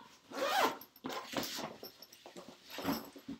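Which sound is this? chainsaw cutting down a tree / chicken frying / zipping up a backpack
zipping up a backpack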